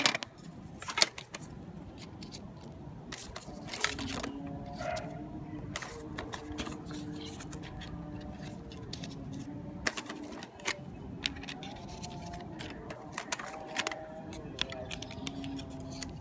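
Credit cards sliding into a BRYK RFID minimalist wallet, heard as soft scattered clicks, taps and scraping of card plastic, close up and faint, with quiet speech faintly in the background.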